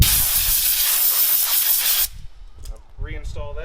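Compressed air blasting loudly and steadily off a part of a non-starting Briggs and Stratton lawn mower, a broad close hiss lasting about two seconds, then stopping, followed by someone talking.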